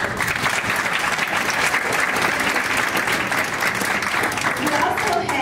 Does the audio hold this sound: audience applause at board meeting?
yes